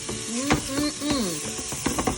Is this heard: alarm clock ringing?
no